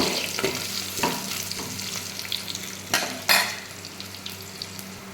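Ingredients for Rayalaseema-style uggani sizzle in a pan. Steady frying hiss sits under a few clinks and scrapes of a spoon stirring, with two sharper knocks near the end and no voices.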